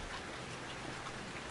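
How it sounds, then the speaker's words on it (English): Heavy downpour of blood rain in the horror video game Outlast 2, a constant dense hiss of falling drops with no breaks, steady and enveloping without any voices. "There's blood rain."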